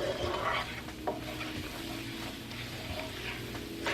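Flour cooking in garlic butter in a pan, a soft sizzle under scraping and stirring with an occasional light clink of utensil on pan, fairly quiet and close.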